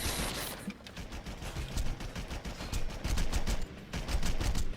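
Sustained automatic gunfire from Red Faction II rattles in dense, rapid bursts. It stays loud and close throughout with only brief dips, and no talking is heard over it.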